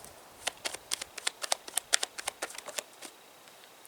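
Tarot cards are shuffled and pulled from the deck, producing a quick series of crisp, close riffling snaps and flicks in an irregular rhythm, fading toward the end, with no voices.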